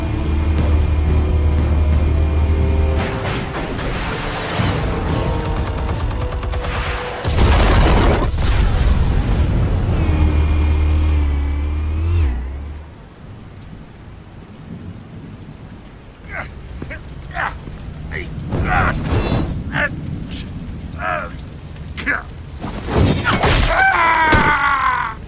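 Explosives detonate in the Telltale Batman video game: heavy, deep booms and rumbling blasts roll through the scene, fading to quieter debris and crackles before more loud bursts near the end.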